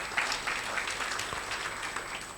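Scattered applause from an audience, a fairly quiet, even patter of clapping that continues throughout.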